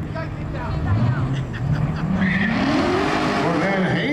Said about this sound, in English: Corvette hazes the tires, heads towards a Christmas tree.